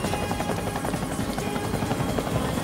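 A helicopter drones steadily with a dense, rapid thumping of rotor blades, loud and continuous throughout.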